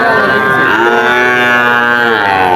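A calf at a rural cattle market moos loudly and very close, one long sustained bellow that fills the whole moment.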